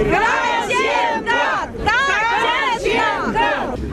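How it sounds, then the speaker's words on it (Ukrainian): Political rally crowd cheering and chanting in rhythmic bursts, many voices shouting together in repeated waves with applause underneath, loud and close. "Таку заяву нового керманича мітингарі зустрічають оплесками та скандуванням."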